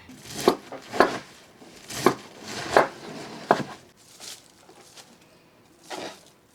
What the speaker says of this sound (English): I had a full head of cabbage that I am chopping up